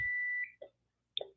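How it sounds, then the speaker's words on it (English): Multimeter continuity check while building a dual 5-inch drone: one short, high, steady beep, followed by two faint clicks of the probes. "do a continuity check"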